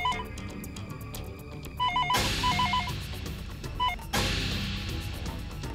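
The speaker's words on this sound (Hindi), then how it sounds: "भैया फोन आ गया।" A telephone rings in short repeated electronic bursts, fairly quiet under a steady background of music and room noise in a TV drama scene.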